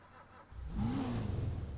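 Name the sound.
car engine revving in video game GTA 5 Online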